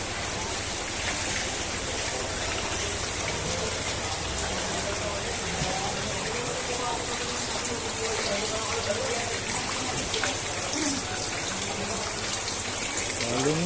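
Typhoon Carina floodwater rushes and splashes in a steady, loud wash with rain-like hiss throughout, while voices talk over it.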